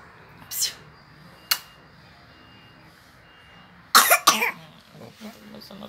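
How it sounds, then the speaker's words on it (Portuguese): A baby gives a few short, sharp coughs, one early, one isolated, then a quick cluster of three near the end, with quiet in between. "Começando a tossir."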